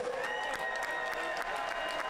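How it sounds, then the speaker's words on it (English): Crowd at a boxing event applauding the two fighters after the final round, a busy clatter of clapping and cheering mixed with a voice talking over it. "How about a round of applause for these two brave warriors?"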